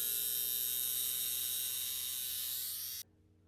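A small battery-powered nose hair trimmer from an online haul hums with a steady, high-pitched buzz, close and constant for about three seconds before switching off abruptly.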